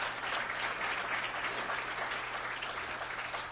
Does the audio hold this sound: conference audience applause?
yes